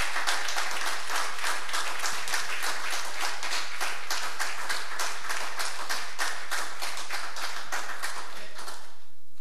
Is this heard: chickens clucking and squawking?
no